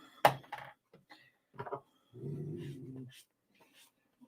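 A pet dog named Pixie, indoors and rolling around in another dog's bed, gives a low rumbling growl of a second or so amid brief soft whimpers and snuffles, close by with quiet gaps between.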